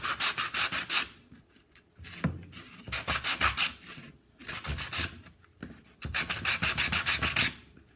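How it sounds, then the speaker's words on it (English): Bursts of rough, rhythmic rasping from sanding a hard block of compressed aluminum foil, coming in several strokes separated by short pauses, close and fairly loud. "I'll just sand it down"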